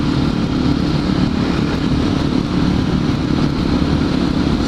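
Suzuki DR650 supermoto motorcycle riding along a road, its engine a steady, loud, continuous drone with broadband wind rush throughout and no talking.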